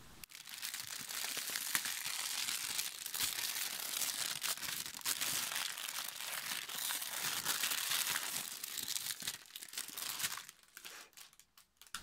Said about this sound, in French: Les articles sont toujours aussi bien emballés dans du papier cristal.